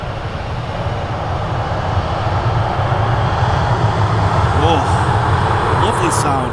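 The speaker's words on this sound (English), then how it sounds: "Seeing a Ryanair 737 MAX." A Ryanair Boeing 737 MAX airliner at Manchester Airport rumbles as a steady, loud broadband roar that builds slightly over several seconds, with engine whine rising near the end; voices may be faintly present under the noise.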